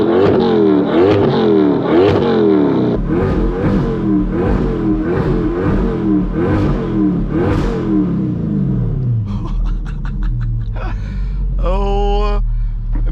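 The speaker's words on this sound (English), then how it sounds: "We'll give y'all a few exhaust revs, see how this thing sounds from the rear." C8 Corvette fitted with a titanium exhaust, heard from the rear as a loud run of rapid revs rising and falling in repeated bursts, then settling to a lower idle with a few sharp crackles and pops near the end.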